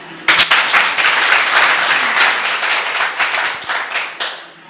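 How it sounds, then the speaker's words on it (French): A studio audience bursts into applause for a television crew at the close of a debate broadcast, a dense, steady wash of clapping that starts abruptly and carries on loudly throughout with no voices. "je commencerai par dire au public d'applaudir l'équipe d'Espace TV"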